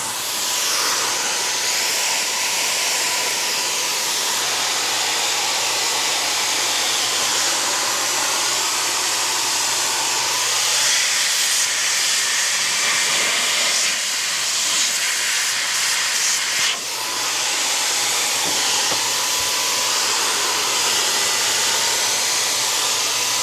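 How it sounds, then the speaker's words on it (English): An electric paint sprayer blasts old paint onto a wooden chicken coop, a loud, steady airy hiss running nearly unbroken with only a brief dip partway through. "This is my least favorite paint sprayer I own"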